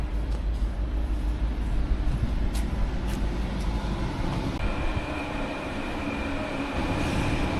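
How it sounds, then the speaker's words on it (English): A passenger train rumbles steadily close by, with a low rolling drone of wheels on track and faint metallic squeals as it pulls into the station, in Western Australia. "Well, here's our train."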